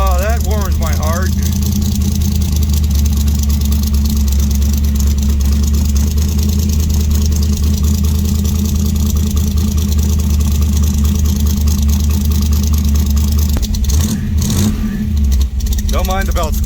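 Dodge C800 truck with a 273 engine idling after starting, a steady low rumble that runs throughout with a thin high belt squeal on top, loud and close, while people talk over it.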